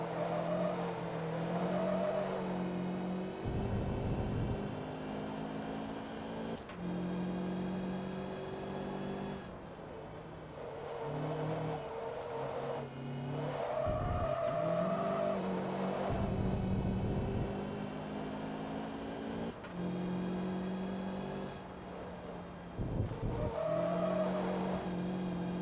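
A Class C race car in Forza Motorsport 2 drives laps, its engine droning and rising through gear changes, with repeated tire squeals and skids through corners, continuous and loud.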